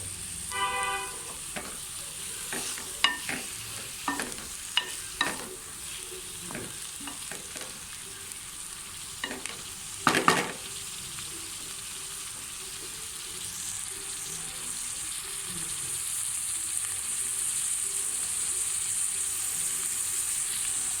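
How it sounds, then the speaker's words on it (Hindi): Okra frying in about half a cup of oil, with a soft steady sizzle, scattered stirring clatters and scrapes in the first half, then a smoother continuous frying hiss. "हाफ कप मैंने ऑयल ऐड कर दिया और इसको 5 मिनट तक फ्राई करेंगे।"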